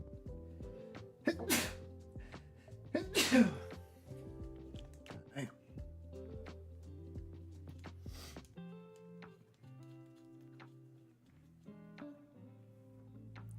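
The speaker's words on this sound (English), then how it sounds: "Oh, I gotta sneeze." Two loud sneezes burst out close by amid a quiet background, followed by softer tonal sounds and faint music-like notes.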